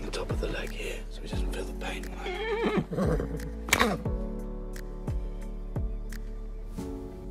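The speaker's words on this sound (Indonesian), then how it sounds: "kuda milik Cassia tidak bisa melanjutkan tugasnya karena Milo tahu luka yang dialami kuda itu barusan" An injured horse whinnies in a scene from the film Pompeii, a strained, wavering neigh amid hushed voices, heavy low thuds and a steady background rumble.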